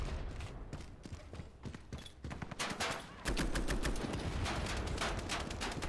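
Rapid bursts of automatic gunfire in the online shooter Ironsight, the shots crackling in dense repeated volleys that grow heavier and more continuous toward the end, with no talk.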